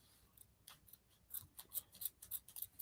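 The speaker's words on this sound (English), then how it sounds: "The scissors aren't doing so good." Scissors snip through velvet ribbon in a quiet room, a series of short crisp cuts that quicken toward the end, with no voice over them.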